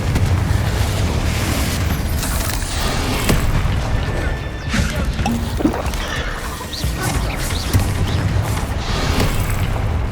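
Fiery Confringo blasts and explosions from spellcasting combat in Hogwarts Legacy, a dense continuous barrage of booms and crashes with bursts overlapping throughout, loud and close.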